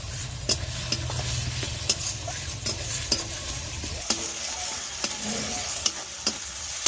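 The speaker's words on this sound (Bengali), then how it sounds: "পেঁয়াজের সাথে রসুন বাটাটা 2 মিনিট নাড়াচাড়া করে নেব।" Garlic paste and onion stirred in a frying pan with a steady low sizzle under repeated sharp clicks and scrapes of a spoon against the pan, close and fairly quiet.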